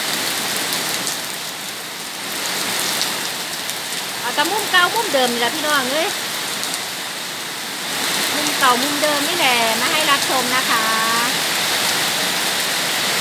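Steady rain hissing throughout, with someone talking over it in bursts.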